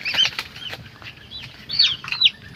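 A pigeon flaps its wings close by in a few quick, fluttering bursts, with the loudest flurries near the start and again near the end of a brief moment.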